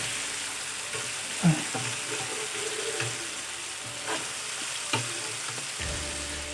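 Fish frying in a pan, a close, continuous crackling sizzle with a few soft utensil knocks and scrapes spaced through it, moderately quiet and without talking.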